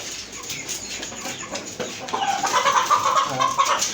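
Tiger-colored chickens cluck in short, scattered bursts, growing busier and louder toward the end, with no talking.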